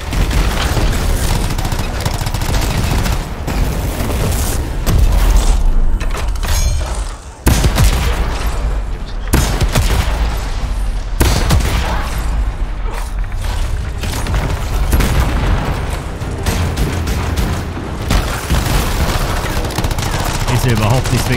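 Explosions and gunfire in the PC game Anthem, a loud, dense run of booming blasts and rapid shooting with mechanical clatter, broken by brief gaps, with someone talking at times.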